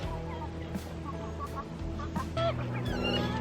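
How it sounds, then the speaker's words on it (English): Hens clucking and squawking in a busy flock at feeding time, steady overlapping calls with a few sharper cackles near the end, fairly close. "Now to feed the hens."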